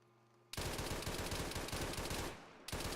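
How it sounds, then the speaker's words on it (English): Machine gun firing in a military video game, a sustained loud burst of rapid shots, a brief pause, then another burst, close and dominant. "Roger, I'm gonna put some rounds down."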